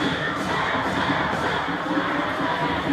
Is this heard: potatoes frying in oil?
no